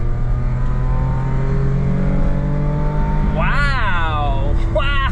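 A Daihatsu HiJet Deck Van kei truck engine winds up at full throttle, a steady climbing drone heard from inside the cab that rises sharply in pitch toward the end with a gear change.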